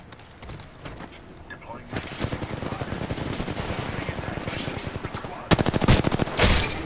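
Rapid, loud bursts of automatic gunfire rattle in Apex Legends, a sustained stream of shots building in intensity with heavier volleys near the end, under occasional voices.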